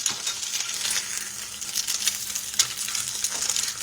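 Eggs frying in a new iron skillet give a dense, even, crackling sizzle heard up close, with a few sharper pops and no speech.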